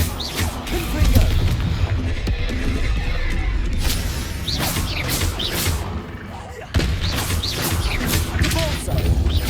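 Confringo fire spell explosions in Hogwarts Legacy, a dense run of booming blasts and crashes over loud continuous battle noise, with several sharp impacts; a player's voice is faintly mixed in.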